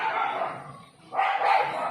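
Rocky the dog lets out two sharp, fairly close barks with a short pause between them.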